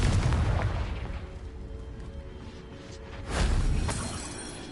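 A Confringo fire spell from Hogwarts Legacy, heard as loud, booming explosive blasts with a rumbling tail and a second swelling burst near the end, with game music in the background.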